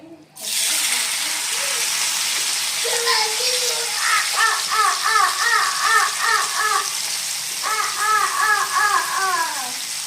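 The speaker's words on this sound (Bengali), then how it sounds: "তেল কিন্তু গরম হয়ে গেছে। আর এখন এর মধ্যে দিয়ে নেব পেঁয়াজগুলো।" Onions dropped into hot oil for a Hyderabadi masala chicken set off a steady, loud sizzle that hisses continuously, with a person talking over it.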